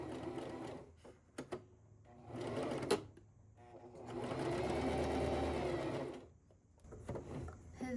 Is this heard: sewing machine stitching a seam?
yes